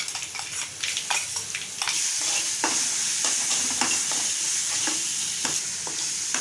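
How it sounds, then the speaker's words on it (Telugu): Spices frying in a pan with a pinch of turmeric, a continuous close sizzle broken by repeated scraping stirs of a spatula, with no talking over it. "చిటికెడు పసుపు వేసుకొని ఫ్రై చేసుకోవాలి"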